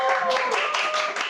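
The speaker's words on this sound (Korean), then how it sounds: "우리 박수 한번 주세요." Church seminar audience breaks into steady applause, a dense patter of many hands clapping together in a hall for about a second.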